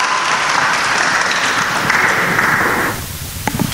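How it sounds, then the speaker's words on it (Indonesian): A church crowd applauds the KKS chairwoman at an evening gathering in the Kelapa Gading parish, a dense, steady roar of clapping that fills the room and then drops off sharply, leaving a few scattered claps. "Kita tepuk tangan untuk Ibu Ketua kita."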